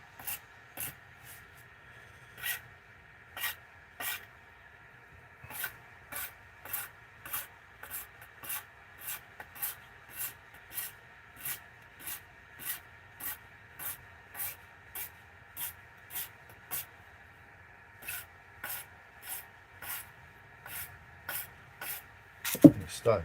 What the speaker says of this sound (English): I'm going to sandpaper it anyway, and then so I'm just going to work quickly through the grits